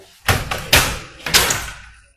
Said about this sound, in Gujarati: આ બંધ દરવાજો ખુલી ગયો